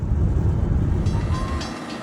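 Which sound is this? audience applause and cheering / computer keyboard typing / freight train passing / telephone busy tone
freight train passing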